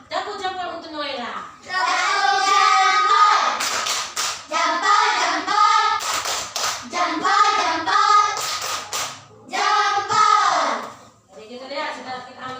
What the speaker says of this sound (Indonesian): Tepuk jempol untuk Noela.